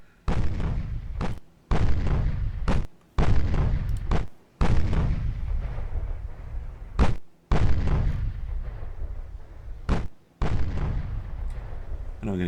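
Naval guns fire armor-piercing shells in the warship game Ultimate Admiral, a run of loud booming salvos, about nine sharp blasts at irregular intervals, each with a rumbling tail that fills the gaps.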